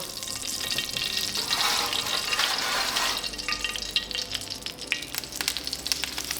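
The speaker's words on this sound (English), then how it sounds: "pouring the brown butter over the steak" Hot brown butter poured over a pan-seared rib eye steak on a resting rack gives a loud, close, steady sizzle and crackle that slowly eases off, with no talking.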